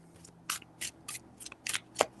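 Tarot cards shuffled in a quick series of crisp riffling bursts, about seven short close swishes with brief gaps between, no voice.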